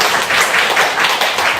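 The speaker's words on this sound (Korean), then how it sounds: "우리 살아계신 주님께 다시 또 영광의 박수 드립니다." Congregation applauding during a church service: steady, dense clapping from many hands, loud and close, with a brisk, even rhythm throughout.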